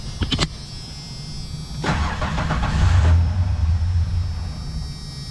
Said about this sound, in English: so let's start the truck